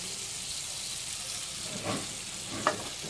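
Mustard-poppy seed paste with tomato hits hot oil in a pan for a Bengali pabda fish curry, giving a steady low sizzle with a couple of brief louder spits and stirring scrapes.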